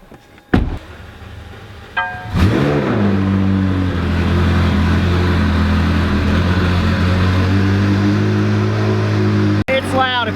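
A hypercar engine cranks and fires up with a sharp burst, then settles into a loud, steady deep-toned idle close by, with a click near the end.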